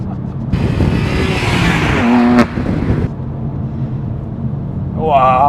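A BMW M2 Competition accelerates hard with a loud, close engine roar and a brief whine partway through. A person talks over it.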